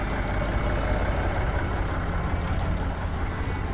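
A farm tractor engine drives a Hakki Pilke wood processor, giving a dense, continuous low rumble and hum that stays steady and close, with no speech.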